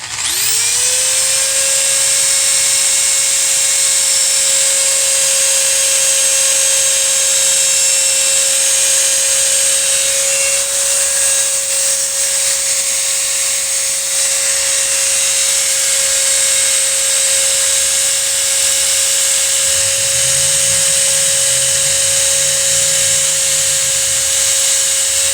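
A small polishing cloth wheel on a high-speed rotary tool works a motorcycle crankcase, giving a steady, piercing high whine over a constant buffing hiss for the whole stretch. A brief lower warble joins near the end, and nobody speaks.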